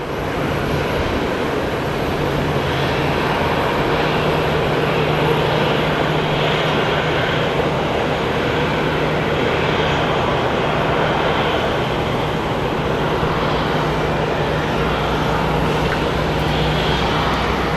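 A jet airliner at Phoenix Sky Harbor airport gives off a steady, loud engine roar that holds evenly throughout, broadband and unbroken, with a low drone underneath and no voices.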